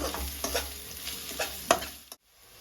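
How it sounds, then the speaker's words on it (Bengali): Ground turmeric, chili, coriander and salt fried in hot oil in a pan for a fish curry, a steady close sizzle broken by rhythmic scrapes of stirring, ending abruptly in near silence. "হলুদ গুঁড়া লঙ্কার গুঁড়া ধনে গুঁড়ো নুন দিয়ে মশলাটা কষে নেব ভালো করে"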